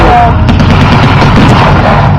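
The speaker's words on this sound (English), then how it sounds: "This being the dreaded Sherman tank." A Sherman tank approaches at a World War II reenactment: a loud, dense, continuous rumbling roar of engine and clattering tracks dominates throughout, close and heavy.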